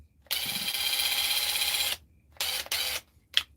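A power drill running in hammer mode, one long buzzing burst followed by two shorter ones and a brief final blip, close and fairly loud, with no talking.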